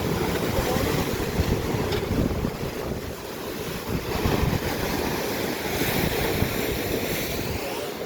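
Sea waves wash up the shore at Mandarmoni beach, a loud, continuous roar of surf mixed with strong wind buffeting the microphone, rising and falling gently over several seconds.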